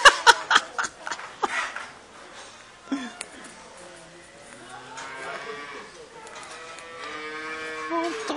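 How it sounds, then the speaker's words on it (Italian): A cow lowing on a dairy farm, several drawn-out moos with a few sharp knocks and rustles early on, close and fairly loud, while people talk and laugh softly nearby. "Questa è una mucca pazza."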